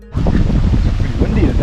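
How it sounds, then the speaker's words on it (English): Strong wind buffets the microphone outdoors beside a pizza oven used for smoking fish, with a loud, rumbling roar that starts abruptly and continues throughout. "Pretty windy today."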